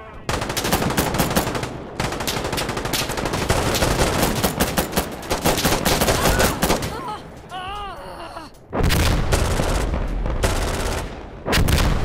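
Heavy, nearly continuous automatic gunfire in Insurgency Sandstorm, loud and dense, with a brief wailing tone and a short gap before the firing resumes hard to the end.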